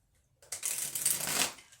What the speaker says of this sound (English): Sometimes I just like to shuffle in the background,